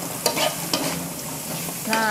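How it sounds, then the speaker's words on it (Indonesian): Onions stir-frying in a pan with a pinch of white sugar give a steady, close sizzle, broken by a few sharp spatula scrapes and clinks against the pan, with no voices. "Oseng-oseng goreng bawangnya jangan terlalu lama ya."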